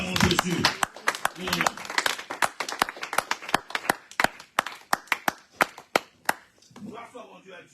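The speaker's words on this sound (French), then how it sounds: "Oh, acclamons le Seigneur, acclamons Jésus." Church congregation claps to acclaim the Lord, sharp handclaps in a steady, slightly uneven rhythm, loud and close, with voices talking and calling at the start and end.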